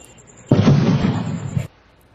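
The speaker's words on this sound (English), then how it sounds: "The explosions happening between 1 and 3 a.m. on 3 separate nights this month." A sudden loud boom at night opens into a rumbling roar that lasts about a second before cutting off, with quiet background before and after.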